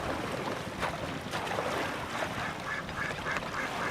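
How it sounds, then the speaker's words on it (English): Ducks quack repeatedly along a river sandbar, a steady wash of flowing water and outdoor noise underneath the scattered calls. "Lots of ducks."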